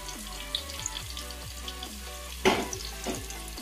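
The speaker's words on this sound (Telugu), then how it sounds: "మంచిగా బ్రౌన్ కలర్ వచ్చే వరకు వేయించుకోవాలి." Onions frying in a pan for mutton curry, a steady close sizzle with light stirring scrapes and a brief clatter midway.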